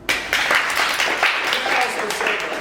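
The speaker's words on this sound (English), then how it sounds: "So round of applause for yourself." An audience at a Q&A talk claps in a warm round of applause, a steady wash of hands with a few louder swells, close and continuous.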